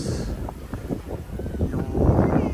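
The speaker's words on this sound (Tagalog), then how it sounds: "Masarap yung hangin dito." Wind gusts at a seaside spot near ruins on a black-sand beach, with loud rumbling buffeting close to the microphone that swells toward the end.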